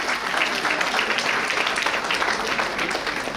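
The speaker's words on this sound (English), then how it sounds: "Guys, round of applause please." A large crowd at a college graduation ceremony applauds steadily, loud dense clapping that holds evenly throughout without any speech over it.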